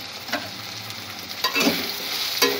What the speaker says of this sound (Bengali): পেঁয়াজ রসুনটা ভাজা হয়ে গেছে